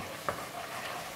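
Green peppercorns, about three tablespoons, sizzle and get stirred in a hot pan while making duck breast with green peppercorn sauce; a steady soft frying hiss runs throughout, with one brief louder scrape of stirring.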